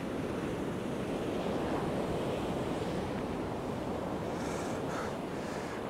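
Sea waves wash steadily onto a beach at Hornsea North End on the UK east coast, a continuous loud surf roar with wind buffeting the microphone and no talk.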